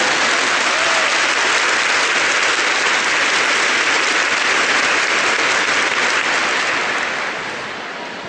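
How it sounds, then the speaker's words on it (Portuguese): An audience at a Catholic retreat talk by Father Rufus breaks into steady, loud applause that fills the space and fades slightly at the end. "Now give them a clap."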